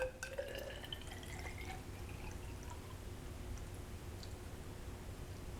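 Water poured from a measuring cup during a metric-system lab, a faint steady trickle and drip at close range with no talking.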